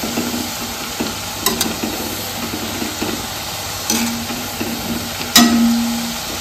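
Chakli, crisp Diwali snacks made from bhajani flour, frying in hot oil, giving a continuous dense sizzle with a few louder bubbling bursts and occasional scrapes of a utensil.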